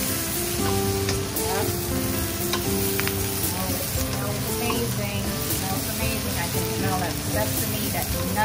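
Vegetable stir fry with fennel and red chili flakes sizzling in a hot pan, a dense continuous crackle with rhythmic scraping and stirring strokes throughout, close and fairly loud.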